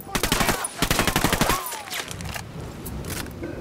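Rapid automatic gunfire bursts from a Ghost Recon Wildlands firefight with cartel gunmen near ruins, loud and close, dense volleys for the first second and a half, then a quieter stretch with lingering shots and faint voices.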